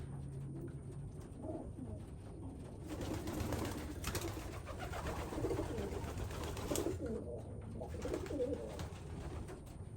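Racing pigeons coo softly and repeatedly nearby, low murmuring calls overlapping against a faint background rumble.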